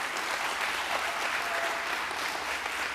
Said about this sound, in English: can I just ask that you give applause to my team for all their hard work